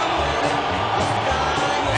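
A packed boxing arena crowd at the Juan Manuel Marquez vs Manny Pacquiao fight roars steadily as Marquez appears on the big screens, a dense continuous din with a commentator talking over it.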